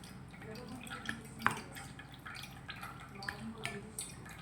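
Mayonnaise being mixed in a bowl for a no-bake sushi: soft, irregular scraping and clinking of a utensil against the bowl, with small wet ticks, fairly close and quiet, with faint background noise.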